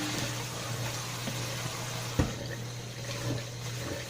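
Water pours steadily into a container while lye soap is being made, a constant trickling fill with a low hum beneath it and one brief knock partway through; no one talks.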